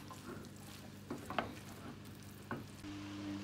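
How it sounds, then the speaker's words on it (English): Stir-fried vegetables mixed into a coconut curry sauce in a pan, with a soft, steady sizzle and a few clear stirring clacks and squelches. "we're gonna mix it all up again."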